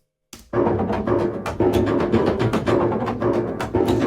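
Two sampled piano loops panned left and right play together in a dense, continuous wash of repeated chords and notes, steady and moderately loud, with no talking.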